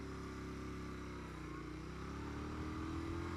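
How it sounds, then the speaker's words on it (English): Royal Enfield Interceptor motorcycle engine, steady loud rumbling idle with low harmonic tones and a slight swell toward the end, close up and alone with no voices. "that noise when you blip it"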